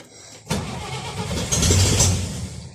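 A Chevrolet Corvair engine cranks and tries to fire after a sudden start about half a second in. It gives a loud, sustained churning roar that builds without settling into a clean idle, close by with no talk.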